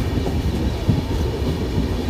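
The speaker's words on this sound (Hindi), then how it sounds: "और ट्रेन देखो कैसे मुड़ रही है," A train rolls and curves through tracks near a railway station in Punjab, a steady close rumble of wheels with faint clickety-clack running under it, with no talking.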